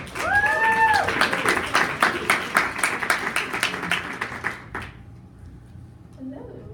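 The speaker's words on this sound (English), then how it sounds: "Please give a round of applause for Celeste Rains Turk" A live audience claps to welcome a speaker to the stage, a burst of many hands that stays fairly loud for several seconds, thins out and fades quickly, with brief voices and sounds rising at the start and end.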